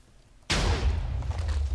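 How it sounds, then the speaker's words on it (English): A single sharp blast from a TNT cannon in a pirate-themed block-building video game, a sudden loud boom after brief quiet, trailing into a rumbling low decay; no talking. "You ignite using this button, and then you ignite the cannonball here"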